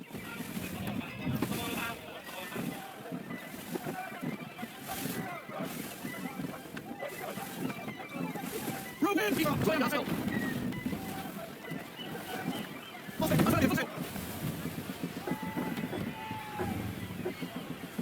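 A sailing ship in Assassin's Creed III glides through shallow water, with steady sloshing waves and wind rushing across the whole stretch and a couple of louder surges, while voices talk over it.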